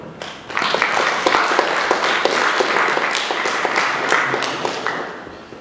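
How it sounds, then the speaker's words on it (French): A lecture audience at Sciences Po Grenoble applauds a guest speaker, a moderate room full of scattered individual claps that starts abruptly and continues steadily. "je vous demande à tous d'applaudir notre invité Christophe Marie"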